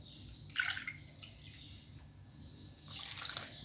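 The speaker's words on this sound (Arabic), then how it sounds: "الآن هنضيف 3 كاسات من المي" Water poured from a glass into a bowl of flour and semolina batter for qatayef, a soft splashing trickle in two short bursts, fairly quiet and close, with no talk.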